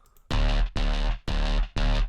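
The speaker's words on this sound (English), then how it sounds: "it really worked in between the chorus and distortion" A distorted, chorus-thickened neurofunk synth bass made in Vital plays four sustained notes in a steady rhythm, loud and buzzy, with short gaps between them.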